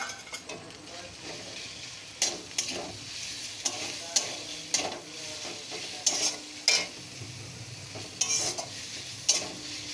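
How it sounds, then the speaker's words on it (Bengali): Banana flower frying in a pan with ginger and garlic, a steady close sizzle with periodic clinks and scrapes of a spatula stirring against the pan. "তো এই দেখো আদা রসুনটা আমার সুন্দর করে ভাজা হয়ে গেছে।"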